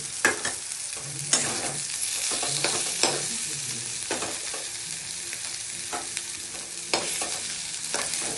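Brinjal frying in hot oil in a pan, a steady loud sizzle with repeated scrapes and clinks of a spatula stirring and lifting the pieces, no voices.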